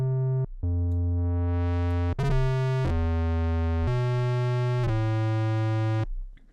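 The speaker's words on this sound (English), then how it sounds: "if we bring this back to a sine wave and then add some distortion" Synthesizer sine wave with distortion added, giving a buzzy, harmonically rich tone held in several sustained notes that change pitch from one to the next, fairly loud and with no voices.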